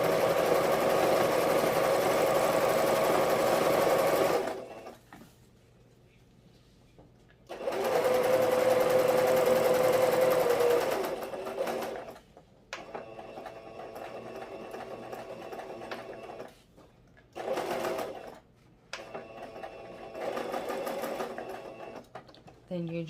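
A sewing machine runs in loud, sustained bursts as it stitches tulle for a ribbon trim tutu, with steady motor whirring broken by pauses and shorter back-stitch runs, close up.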